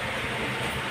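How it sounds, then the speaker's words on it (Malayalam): Steady rumbling drone inside a moving passenger train, a continuous broadband roar with no distinct clicks or voices over a brief moment. "ട്രെയിനിൽ കിടക്കാണ്."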